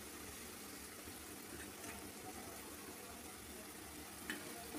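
Soft pabda fish frying in a pan for a Bengali fish curry makes a faint, steady sizzling hiss that stays even throughout, quiet and close.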